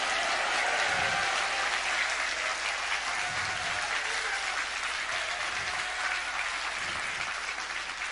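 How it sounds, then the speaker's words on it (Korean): Steady, dense applause from a large audience at a church revival retreat, clapping continuously and evenly for several seconds with no voices standing out. "이건 박수 세게 쳐야 돼요"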